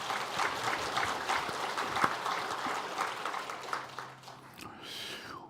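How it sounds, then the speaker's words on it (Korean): A church congregation at a 70th-anniversary Sunday worship service applauds in a dense, lively wave that fades toward the end, where a brief voice and a faint tone appear. "영광의 박수를 우리 하나님 앞에 올려드리겠습니다"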